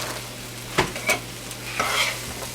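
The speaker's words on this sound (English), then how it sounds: "I'm going to stir those in real quick." Carrots being stirred into a vegetable and chicken stir fry with rice, a steady close sizzle of frying under a few soft scrapes of the stirring utensil against the pan.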